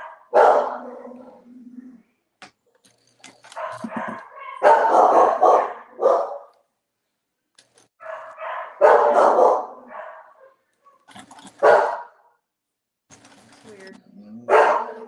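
A dog barks and yips in repeated short bursts indoors, loud and close, with pauses between bouts and a few higher whimpering sounds.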